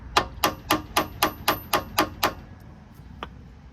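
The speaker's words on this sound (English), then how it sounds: "Just going to give it a couple more taps here." Eight sharp, evenly spaced hammer taps ring out close by as a rear axle seal is seated on a Ram 1500 pickup, followed by one faint final tap.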